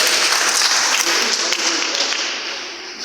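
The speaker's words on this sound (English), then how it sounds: "can you please come and then clap your hands for this beautiful lady?" Audience applause at a gathering honoring a woman: dense, steady clapping from many hands, fairly loud and continuous, tapering slightly toward the end.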